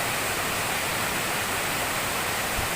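A village waterfall at Kampung Pasir Kutu pours in a steady, loud broadband rush of falling water, constant and unbroken throughout, with no voices.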